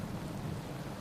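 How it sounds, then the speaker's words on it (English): Rain falls outside a window in a thunderstorm, a faint, steady hiss with a low rumble underneath, brief and fairly quiet. "So we're near my window because you might be able to hear there's some thunder outside."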